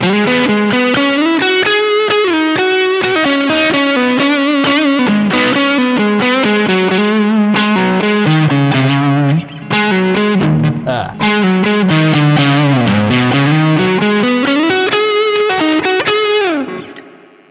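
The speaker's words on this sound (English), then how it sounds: "Adding in the Diva drive with the current setting." Electric guitar through a Mosky Classic M Shall amp simulator with the Diva drive engaged, giving a loud, continuous overdriven rock rhythm riff with chorused tone that rings steadily before fading out at the end.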